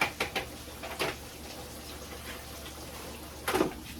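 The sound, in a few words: T-bone steaks frying in grease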